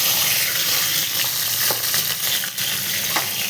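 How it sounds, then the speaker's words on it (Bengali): Bitter gourd dropped into hot oil, a loud dense crackling sizzle that fills the whole stretch with a few sharper pops and spoon scrapes. "তেল গরম হয়ে গেছে, এবার আমরা করলাটা দিয়ে দেবো।"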